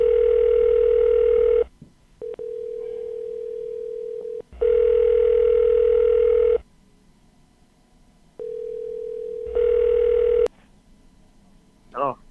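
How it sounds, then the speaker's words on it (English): A telephone call rings out with long electronic tones that repeat in on-off bursts separated by silent gaps, loud and close, and ends with a brief warbling chirp. "So I'm gonna try and call Pierre again"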